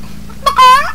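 A person imitates a chicken clucking during a World of Warcraft player-versus-player match in Alterac Valley, giving a short clucking voice sound of about half a second with harmonic, bird-like calls, close and fairly loud.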